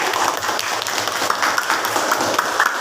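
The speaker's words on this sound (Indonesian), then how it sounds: "Tepuk tangan untuk kelompok 1." A classroom of students claps for a student group, a moderately loud, steady patter of hands filling the whole short stretch with no talking over it.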